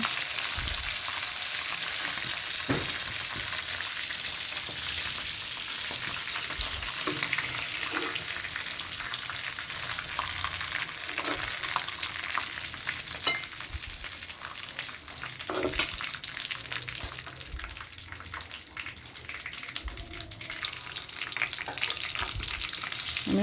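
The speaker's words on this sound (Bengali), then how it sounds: "চিকেনগুলো ভাজা হয়ে আসছে তাই একে একে তুলে নিলাম" Chicken pieces fry in oil for a Hyderabadi aloo chicken masala, giving a steady, close sizzle with scattered crackles and pops throughout, no voices.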